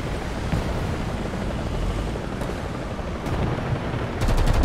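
A helicopter in War Thunder thrums continuously in a dense, loud mix with gunfire-like battle noise, with no talk over it.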